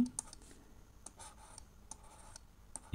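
Pen or pencil writing math subsets by hand on paper: faint, soft scratching strokes with small taps, quiet and intermittent in a still room.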